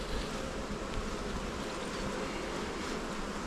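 Honey bees droning steadily throughout an open hive inspection, a dense continuous buzz close by with no voices, broad and even from start to finish.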